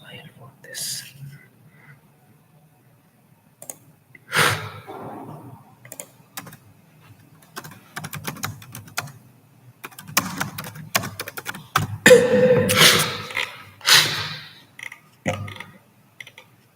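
Computer keyboard typing while a Docker Compose file is written, scattered irregular key clicks with bursts of quicker keystrokes, close and moderately loud, some faint murmured speech in between.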